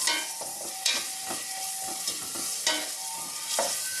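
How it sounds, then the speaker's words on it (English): Minced garlic and white onion sautéing in a pot for a vegetarian tofu chili, a continuous close sizzle punctuated by regular spoon-stirring scrapes and knocks, with no voices. "I'm going to add my 3 cloves of garlic that I had just minced"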